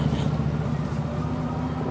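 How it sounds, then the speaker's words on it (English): Street traffic in a windy San Francisco Bay area, a steady low engine drone from passing cars and a bus-like motor, continuous and fairly close throughout the short stretch. "now we have a lot of car noise"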